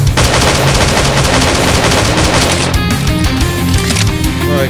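Rapid, loud bursts of automatic gunfire from the video game Slendytubbies 2D Revolution, close and continuous for several seconds, then tapering into sharper individual shots.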